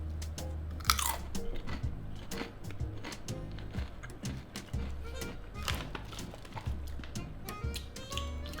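Someone crunches and chews spicy Thai snack chips close to the microphone. Brittle bites and steady mastication come in a continuous rhythm, with a louder crunch near the start, and no talking.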